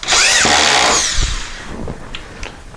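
A power drill drives 1-inch drywall screws into wood strapping: a loud whining burst that rises and falls for about a second, then a few softer knocks and clicks of handling.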